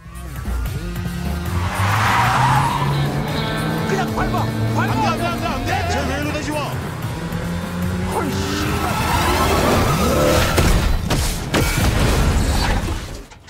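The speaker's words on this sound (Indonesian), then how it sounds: "Sun Wu pun terpaksa melakukan hal ekstrim dengan bermaksud menabrakkan dirinya ke mobil" A car in a dramatic movie scene skids and rams deliberately into another car, giving a loud, continuous stretch of engine roar, tire noise and impact under a film score, with speech mixed in.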